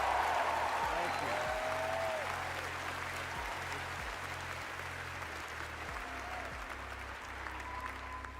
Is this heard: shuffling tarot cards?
no